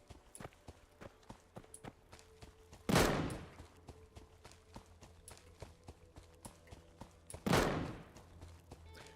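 Automated turret fire in the survival shooter Deadside, two heavy booming shots several seconds apart over a busy bed of faint clicks and footsteps.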